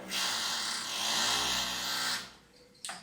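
A drill whines loudly from nearby in a steady, high-pitched burst lasting about two seconds, then cuts off, with a brief second burst starting just before the end.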